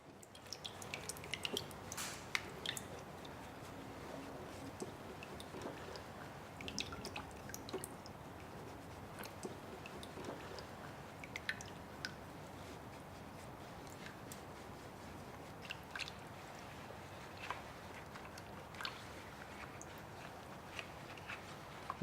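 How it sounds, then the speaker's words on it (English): A heritage object is brushed clean of hard dirt underwater, giving a steady, faint wet scrubbing with scattered small drips and squishy splashes throughout, close and continuous. "When the hard dirt loosens, use a brush to remove it little by little."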